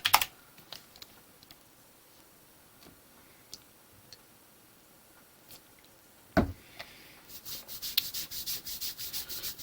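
Someone practises typing on a computer keyboard: sparse single key clicks at first, then a quick rhythmic run of keystrokes toward the end, close and clear, with no talking.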